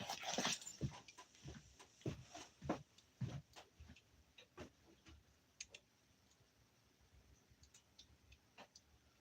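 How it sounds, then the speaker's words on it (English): A puppy making odd whimpering, clicking noises outdoors at night, a string of short irregular sounds that grow fainter and sparser toward the end, with nobody talking. "It's the other dog. Like, that's not a normal sound."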